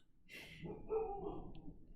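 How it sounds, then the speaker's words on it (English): Dogs bark faintly in the distance, a couple of short muffled barks and yips that are quiet and indistinct in a room otherwise without talk. "Oh, and there's the dogs."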